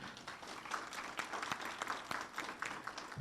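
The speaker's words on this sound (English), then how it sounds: "So give all of them a big round of applause." An audience at a town hall meeting applauds, a steady wash of clapping heard from a distance and fairly faint, without a break.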